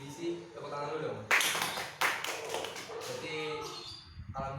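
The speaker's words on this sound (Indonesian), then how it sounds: "Tepuk tangan dulu dong." Applause from a class of students breaks out partway through a micro-teaching lesson, a dense patter of clapping that lasts a few seconds over a murmur of voices.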